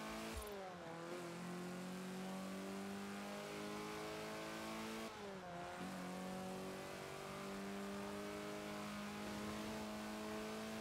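Alfa Romeo engine in Forza Horizon 4 revving hard and continuously, its pitch rising in steady sweeps, dropping back near the start and again around the midpoint, then climbing once more. The sound is loud and close throughout, with no talk over it.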